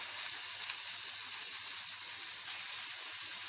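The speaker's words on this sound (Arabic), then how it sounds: "هنبتدي كده الزيت قدح، هنبتدي بقى نحط شويه بصل الاول" Onions frying in hot oil give a steady, dense hiss and crackle that sounds close, constant and moderately loud, with no voices.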